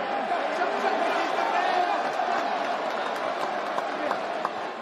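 A UFC fight crowd cheers and applauds Donald Trump in a dense, continuous wash of clapping and crowd noise, with voices mixed into the steady roar.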